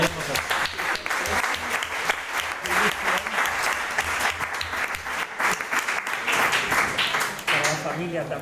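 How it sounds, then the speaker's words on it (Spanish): An audience at a book presentation breaks into dense, sustained applause, many hands clapping loudly and continuously, with voices mixed in underneath. "Un aplauso."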